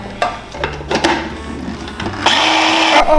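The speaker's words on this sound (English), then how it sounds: "Okay, now we're gonna blend it up." A kitchen blender whirs up with shredded cheese inside, after a few clattering knocks and short motor bursts, then settles into a loud steady grinding whine near the end.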